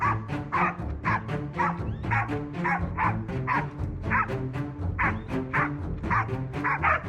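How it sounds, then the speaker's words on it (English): A pack of hunting dogs bays and barks frantically at a cornered wild boar near a forest edge, overlapping loud yelps and barks repeating rapidly and continuously, close by. "After half an hour, the dogs go wild near the forest's edge."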